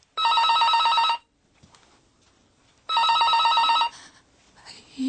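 A telephone bell rings loudly in two long bursts with a pause between them, the second burst cutting off as someone picks up; a voice comes in faintly at the very end.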